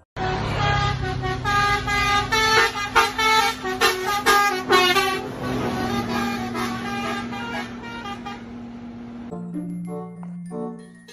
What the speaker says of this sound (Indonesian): kali ini ada bus Tunggal Jaya teman-teman